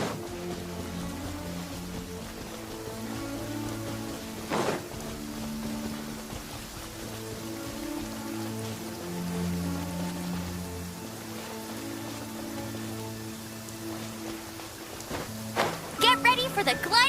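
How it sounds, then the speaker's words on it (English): Rain patters in Genshin Impact while soft background music plays, with a couple of brief sharp splashy hits and movement sounds near the end. "It's raining again."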